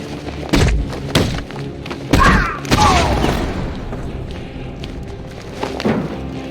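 A grenade blast in a game battle scene, heavy booming thuds and thumps landing close and loud amid chaotic rumble, with shouting voices mixed in.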